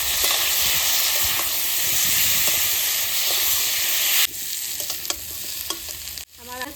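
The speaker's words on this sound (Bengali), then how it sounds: "আর এটা হচ্ছে পেঁয়াজ এবার সুন্দর করে আমি কষাই নেবো" Onion sautéing loudly in a pan with a dense, hissing sizzle and repeated spatula scrapes; the sizzle drops suddenly partway through, then continues more quietly before a short clatter.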